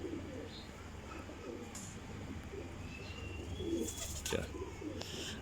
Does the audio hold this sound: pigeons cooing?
yes